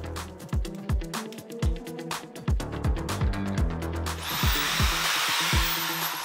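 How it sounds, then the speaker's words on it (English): A power drill bores holes for a folding desk, with quick pulses and clicks at first, then a steady high whine as the bit drives in, close and loud. "I could start drilling again."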